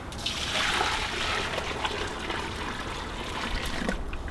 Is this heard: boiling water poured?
yes